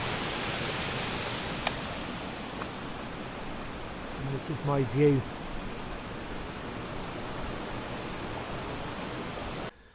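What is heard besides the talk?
water gushing beneath a river bridge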